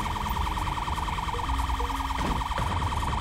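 A police car siren in GTA 5 wails steadily throughout with a rhythmic oscillating tone, loud and continuous, with engine and ambient game sounds beneath.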